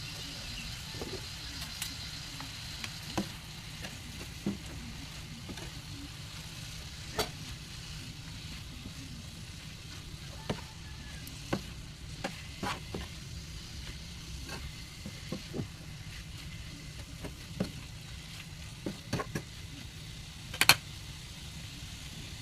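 Chicken pieces sizzle steadily in a pan with soy sauce for a chicken pastil dish, a close, constant hiss dotted with scattered crackles and pops and no voices.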